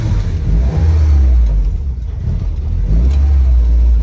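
A 1965 Triumph Herald 1200 convertible with a freshly rebuilt engine runs steadily close by, a loud continuous low engine drone with no talk over it.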